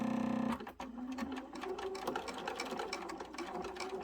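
A sewing machine stitching over the piping on a hip bag's front pocket, its rapid motor hum and needle chatter starting after a brief pause and running steadily, close and quiet.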